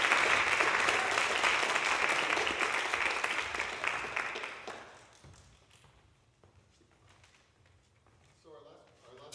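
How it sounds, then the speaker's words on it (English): At a university brass ensemble concert, a crowd's dense round of applause rings loudly for about five seconds, then thins out and fades into quieter room noise with scattered taps and shuffling. "So if we can just give a round of applause to all the things,"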